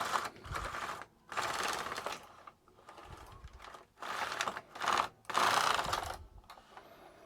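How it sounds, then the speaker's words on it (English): A knitting machine carriage is pushed back and forth across the needle bed, giving bursts of clattering, rattling mechanical noise separated by brief pauses as each row is knitted. "what I'm going to do now is just knit a circle, so that's just 2 rows"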